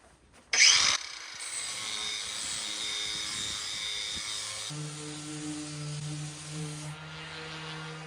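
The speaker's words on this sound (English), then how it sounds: "here we are with the grinder. I'm just removing some paint before I get the glue in." A grinder strips paint from the hull of a 1980s 30 ft catamaran, a close whining buzz that starts with a sharp burst and then runs steadily, shifting pitch partway through, with no talk.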